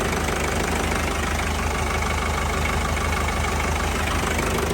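A tractor engine idles up close, a steady, loud, even rumble with a fine mechanical beat running unbroken throughout, with no voices.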